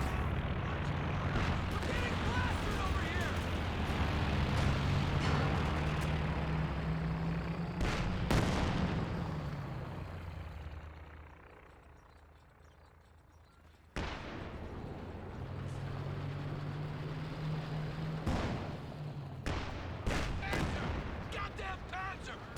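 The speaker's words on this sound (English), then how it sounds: "50 cal firing away." A .50 cal machine gun hammers away in a Company of Heroes 2 battle, bursts of heavy fire mixed with explosions and the rumble of a nearby half-track engine, with talk over the action.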